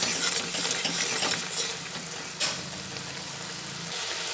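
A sweetened mixture for a chhena recipe being stirred in a pan, steady scraping and clinking with a soft sizzle-like wash and one sharper knock midway.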